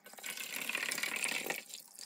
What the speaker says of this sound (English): So I believe we have to add more water.